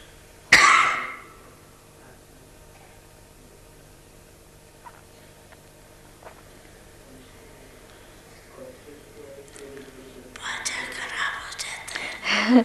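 A single sharp cough sounds near the start, followed by a long stretch of quiet room tone with faint shuffles, then murmuring and rising crowd noise toward the end.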